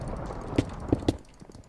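Horse hooves clopping in the Minecraft video game during a Survival Games match, three distinct hoof sounds spaced out over low background noise.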